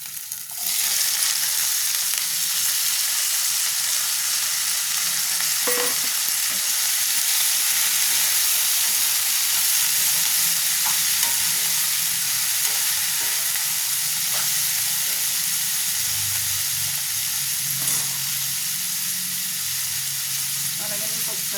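Ivy gourd frying in a hot pan with oil, a steady loud sizzle throughout, with occasional scraping clinks from stirring.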